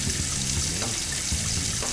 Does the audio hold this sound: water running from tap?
yes